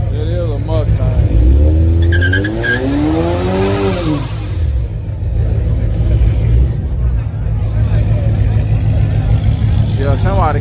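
A turbo V6 Mustang roars and revs hard during a burnout, tires squealing in long rising and falling sweeps, loud and close amid chatter from onlookers.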